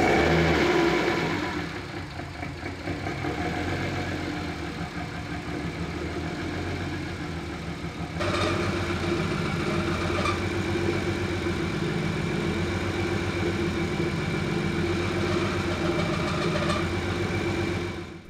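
A rebuilt turbocharged BMW E36 engine idles roughly, then catches more firmly and settles into a louder, steady idle with a faint high-pitched whine riding over the rumble, recorded up close.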